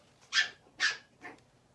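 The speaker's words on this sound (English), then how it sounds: "So, hey, puppies, quit barking." Puppies bark three times in quick succession, short yips that are fairly close, with the last one quieter, over a quiet background.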